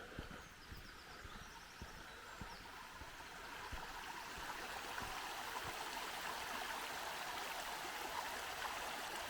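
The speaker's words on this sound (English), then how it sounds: "because I can hear water running" The River Derwent babbles and trickles steadily on an evening walk, a continuous wash of running water heard outdoors, growing slightly louder partway through.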